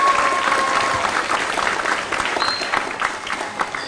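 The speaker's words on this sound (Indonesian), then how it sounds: "mari kita tepuk tangan meriah buat kedua profesor kita yang luar biasa" An audience at a dialogue event applauds two professors, a dense steady round of clapping heard from within the crowd that thins slightly toward the end.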